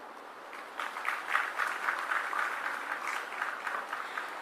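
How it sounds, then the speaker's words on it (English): Sustained applause from an audience at an energy technology conference, many hands clapping in a thick, even patter that swells slightly and holds throughout. "Shri R. Venkatari, I request everyone for a round of applause."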